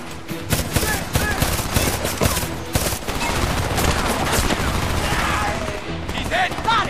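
Heavy automatic gunfire in the Homefront shooter, dense overlapping bursts and rapid shots rattling continuously and loudly, with shouting voices mixed into the battle.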